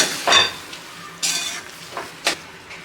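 Cooked chickpeas and finely chopped onion get stirred in a pan, producing a few brief scraping bursts over a soft background sizzle, close by.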